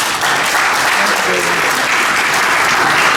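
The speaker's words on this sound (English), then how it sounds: "let's give the awardees a round of applause" An audience applauds awardees at an investiture ceremony of an air traffic engineers' association, steady loud clapping throughout, with faint voices underneath.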